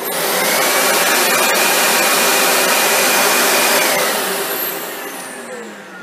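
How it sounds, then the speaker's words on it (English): Two Dyson upright vacuum cleaners, a DC65 Animal and a Cinetic Big Ball, run one after the other in idle mode, giving a steady, loud broadband whir. The noise holds constant, then eases slightly toward the end as the second machine takes over. "Now let's just check the idle mode and see if you can notice the difference."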